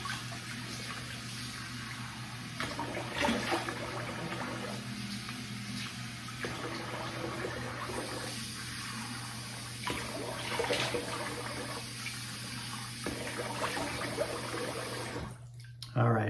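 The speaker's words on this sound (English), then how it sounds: "now I'm going to rinse the face" Tap water runs steadily at a bathroom sink while a face is rinsed after a shave, a continuous close splashing wash over a low mains hum, with brief louder surges.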